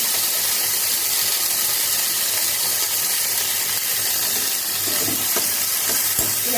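Greens with salt and turmeric being stirred in a pan over a very low gas flame, giving a steady soft sizzle under faint scraping and ratcheting stir strokes, with no talk.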